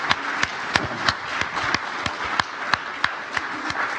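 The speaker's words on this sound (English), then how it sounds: "an applause" Audience applause in a university lecture hall after a talk, heard as a loose, moderate patter of hands with a few sharp, distinct claps standing out, no voices.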